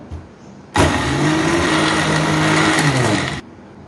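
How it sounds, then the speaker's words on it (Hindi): A kitchen blender switches on abruptly and whirs loudly for about three seconds, blending green chillies, tamarind pulp and water into chutney, pitch wavering as it churns, then stops. "इसको ब्लेंड करूंगी।"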